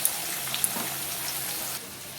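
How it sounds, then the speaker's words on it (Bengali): Potatoes seasoned with salt and turmeric fry in a pan, giving a steady close hiss and crackle with a few small pops, running continuously and easing slightly near the end. "দেখো আলুটা ভাজা হচ্ছে"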